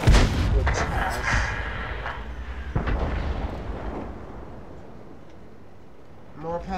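The main gun of a Soviet T-34 medium tank fires in World of Tanks, a loud close boom at the start, then further heavy blasts with echoing rumble that slowly fade, and someone briefly speaks at the end.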